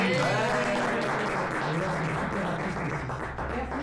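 Steady applause from a crowd fills the whole stretch, dense and continuous, with voices mixed into the clapping.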